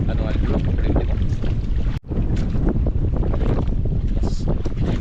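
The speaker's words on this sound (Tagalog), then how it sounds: "Hangin lang pero walang alon." Wind rushing over a fishing boat out at sea on calm water, a steady loud buffeting roar across the microphone with a brief dropout midway, voices faintly present beneath.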